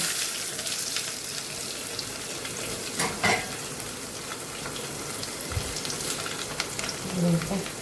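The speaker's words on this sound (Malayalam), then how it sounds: "നമുക്ക് ജീരകം ഇടാം കേട്ടോ ഇനി ഇതിലോട്ട് ചെറിയുള്ളി വെളുത്തുള്ളിയും കൂടെ കേട്ടോ" Cumin, shallots and garlic frying in hot oil for moru curry, a dense continuous sizzle up close with occasional clinks of a utensil against the pan, no voices.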